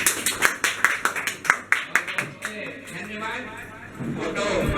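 A small group claps in welcome at a home gathering, a burst of sharp, uneven hand claps over the first two seconds that fades into a softer patter, with background voices murmuring throughout.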